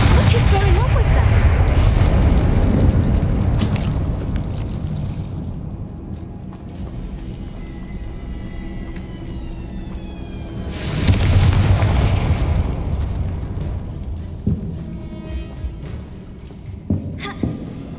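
Blasting-spell explosions from the Hogwarts Legacy video game, with a heavy booming burst at the start and another mid-way, rumbling blasts with crackling debris between quieter stretches.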